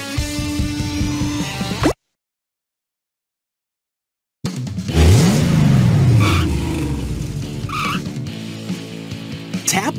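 A cartoon monster truck, Blaze from a video game, revs loudly, then after a gap of silence roars off with rising engine sweeps and tire squeals, mixed with game music and effects.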